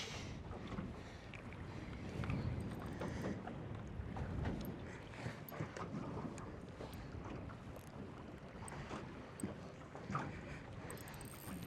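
Strong wind buffets a small fishing boat on open water, a steady loud roar of gusts hitting the microphone mixed with water slapping the hull, continuous and close throughout with no talking.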